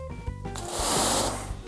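An MJJC short trigger gun on a pressure washer fires a 0-degree jet used for washing cars: a motor hum gives way to a loud, broad hissing blast that swells and holds for about a second.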